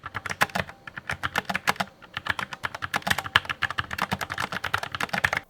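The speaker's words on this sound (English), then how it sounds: "I have been using the Logitech MX Mechanical Mini, which is a fantastic keyboard" Steady rapid typing on a Logitech MX Mechanical Mini keyboard, crisp clicky keystrokes in quick bursts with a brief pause partway through, close and clear.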